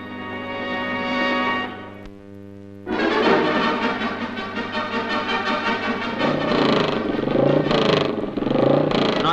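500 cc racing motorcycles warm up on a cold day at Silverstone during the Hutchinson Hundred meeting, engines droning loudly and then revving hard in a dense, overlapping roar, with a brief dip in the middle.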